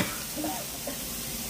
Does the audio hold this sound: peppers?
yes